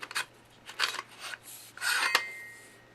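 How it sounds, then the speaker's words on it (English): Metal scraping and sliding as the barrel of a Mossberg 590 shotgun is pushed forward off the magazine tube, several short rasping strokes close by, the last ending in a brief click and a faint ringing tail. "And then slide the barrel forward."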